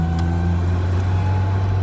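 Small car engine droning steadily while driving, a continuous low hum with a faint higher tone and a couple of brief ticks, no talking.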